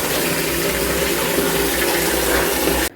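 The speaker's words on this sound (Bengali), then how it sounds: "চান করা চলছে। আর ওর জল খাওয়াও চলছে," Water runs steadily during a bath, a continuous broadband rush like a tap or poured stream, close and fairly loud, cutting off abruptly just before the end.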